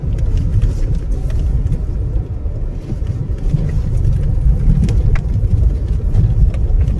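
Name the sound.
car driving on steep mountain road near Teesta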